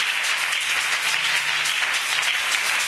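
An audience at a church service applauds, a steady dense wash of clapping that is loud and close, holding even for a few seconds with faint cheering voices beneath.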